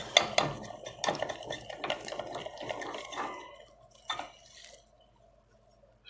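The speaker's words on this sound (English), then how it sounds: "I just added little oil to my powders, and you know, I'll just keep stirring it until it's fully dissolved." A spoon stirs oil into powders in a double boiler for a homemade skin cream, making soft scraping and clinking against the bowl in irregular strokes that fade toward the end, quiet and close.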